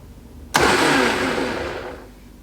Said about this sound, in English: Okay, and blend.